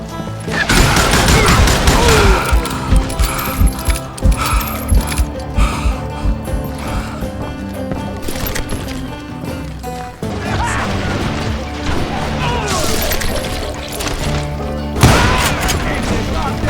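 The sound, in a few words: gunfire in video game Call of Juarez: Gunslinger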